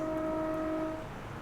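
A train horn sounds in Train Simulator on the route from London King's Cross to St Neots, a steady two-tone blast held for about a second that then fades back into the engine rumble.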